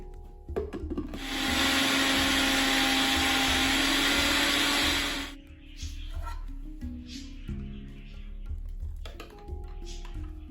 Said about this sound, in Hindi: जिंजर गार्लिक आप इसमें डाल के आप इसको अच्छे तरीके से पेस्ट की शक्ल में पीस लीजिए